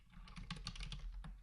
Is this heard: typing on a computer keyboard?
yes